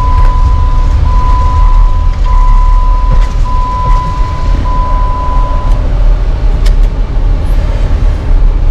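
Steady interior road rumble of a car driving toward Orlando, loud low-frequency drone throughout, with a sustained tonal hum partway through and faint occasional knocks; no talking.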